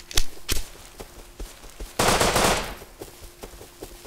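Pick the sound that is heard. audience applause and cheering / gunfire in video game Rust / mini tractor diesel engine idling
gunfire in video game Rust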